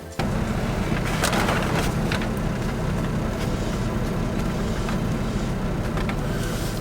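Hummer H2 pulling away, a steady broadband engine and road rumble close by with wind noise, after a brief quiet start.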